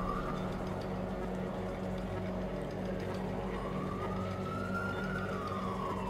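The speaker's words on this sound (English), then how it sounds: "There's a lot of sirens" Police sirens in the video game Watch Dogs 2 wail in slow rising and falling sweeps over a low, steady rumble of background noise.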